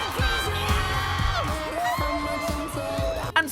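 A crowd cheers and whoops during the big showtime finale of the DreamWorks Trolls film, a bright swell of voices under music and a singing voice throughout.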